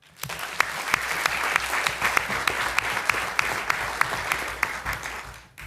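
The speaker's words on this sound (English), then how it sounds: "Let's give them another round of applause" Steady applause from an audience at a city council meeting honoring employees of the year, a dense even wash of clapping with a few sharper individual claps standing out, tapering off at the end.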